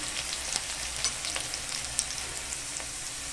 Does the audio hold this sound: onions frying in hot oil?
yes